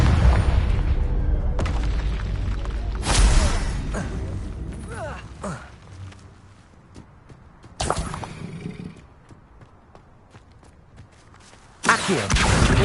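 Booming blasts of the Confringo fire spell in Hogwarts Legacy, several loud bursts spaced a few seconds apart, with game ambience and footsteps in between.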